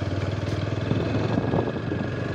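A motorcycle engine running steadily and close while the bike is ridden along a rough, pothole-filled road in heavy rain in Himachal Pradesh, a continuous throaty drone without talk.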